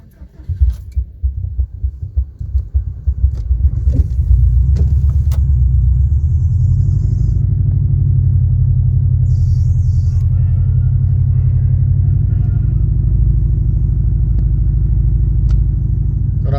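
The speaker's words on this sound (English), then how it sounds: "I know it's been a while since I've started the car" A 2004 Subaru Impreza STi cranks and catches after sitting unused, then settles into a deep, steady, rumbling idle as it warms up, close and loud throughout.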